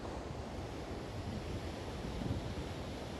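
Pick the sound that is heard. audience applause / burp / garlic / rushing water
rushing water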